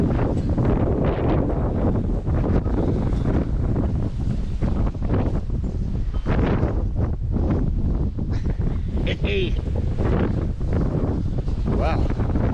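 Strong outdoor wind buffets the microphone in a steady loud roar with gusty swells throughout, a voice briefly audible beneath it.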